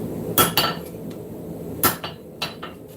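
Hammer blows on hot steel at an anvil in a forging shop, a few sharp metallic strikes spaced irregularly, two pairs and some lighter taps, ringing over a steady shop hum with no talking.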